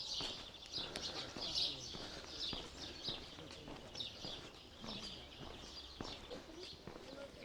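Birds call and chirp in a forest beside a woodland path on the Camino Francés between Melide and Pedrouzo, thin high twitters repeating over faint footsteps and a low murmur of running water.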